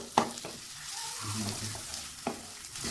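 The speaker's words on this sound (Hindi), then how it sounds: "आपने इसको अच्छे से जो है वो प्याज को भून लेना है। इस तरह करके प्याज को साथ साथ आप खोलते भी रहें।" Onions frying in a pan on a high flame, stirred with a utensil: a continuous close sizzle broken by a few sharp scraping knocks against the pan.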